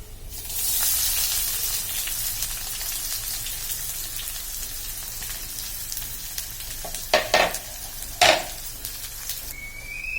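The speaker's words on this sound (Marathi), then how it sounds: "लसूण छान झाल्यावर आपण याच्यामध्ये कांदा टाकून घेऊया" Garlic and then onion frying in hot oil for South Indian sambar, a steady close sizzle throughout with a few louder spits and crackles near the end, no voices.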